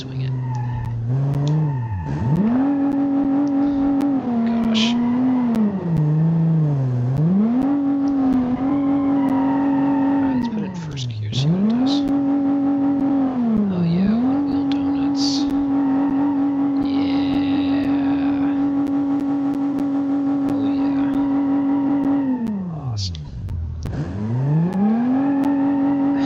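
Video-game car engine revving and swooping in pitch as it swings around a skid pad, with drawn-out tire skids and squeals rising and falling across the whole stretch, loud and continuous.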